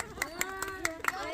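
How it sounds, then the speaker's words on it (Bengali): Quick rhythmic hand clapping from a village competition audience, several sharp claps in even succession under a talking voice. "সুন্দর, হাততালি হয়ে যাক দর্শক।"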